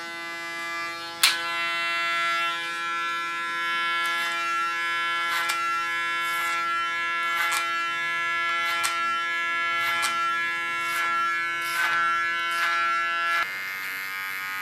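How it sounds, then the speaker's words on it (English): Electric hair clipper buzzing steadily close by as its tip trims hair behind a woman's ear for an ultra-short haircut, with a sharp knock near the start and several brief tonal shifts as the blade presses against the skin, then a change in tone near the end. "This I do with only the tip of my clipper. Clean the hairs behind the ear."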